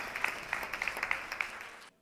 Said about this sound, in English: Just give him a round of applause while he comes up.